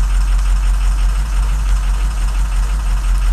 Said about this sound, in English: You got more than 2 bad injectors on an engine, it will start like it does.